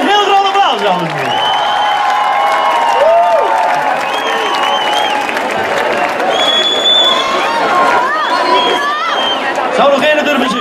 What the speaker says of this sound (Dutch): Geef zo een heel groot applaus, dames en heren.